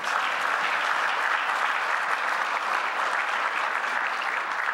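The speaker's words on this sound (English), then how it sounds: "Give her another round of applause" Audience applause at an evening anniversary celebration for a social policy center, a steady, dense wash of clapping from a large crowd, sustained and even throughout with no pauses.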